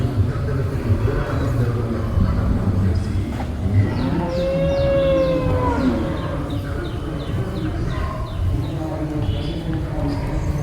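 Cows low loudly at a busy cattle market, one long moo rising clearly in the middle over a constant crowd murmur, people talking throughout, shuffling hooves and other livestock noise.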